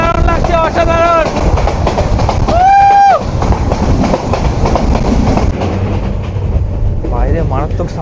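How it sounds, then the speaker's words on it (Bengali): A passenger train from Chittagong to Dhaka rumbles loudly on its rails with a continuous clatter while the carriage jerks hard, and horn-like tones sound twice near the start. People talk over the noise. "আর মারাত্মক জার্কিং হচ্ছে ট্রেন।"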